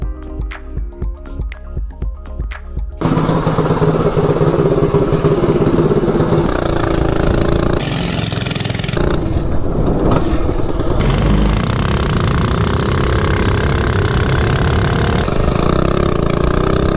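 A Baja Warrior minibike engine, modified with no straight chain and no torque converter, heard after a few soft ticking sounds as it starts and runs loudly, with a buzzing, revving drone that rises and falls, close by with no speech.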